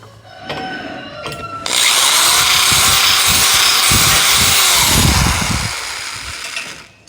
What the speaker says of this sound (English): Let's make sure my screws will go through